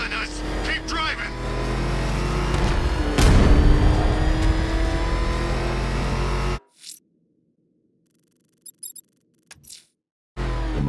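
A car in the Batman Arkham Knight video game roars off, its engine loud and revving hard for several seconds before cutting out abruptly, followed by near silence broken by a few faint knocks and a brief burst of game sound.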